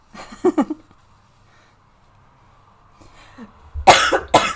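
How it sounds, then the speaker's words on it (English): A short burst of coughing close by, preceded by a brief voice sound and a long quiet stretch. "Sorry, I'm going to cough."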